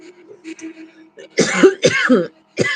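A few sharp, harsh coughs burst out close by after some quiet murmuring, coming in quick succession.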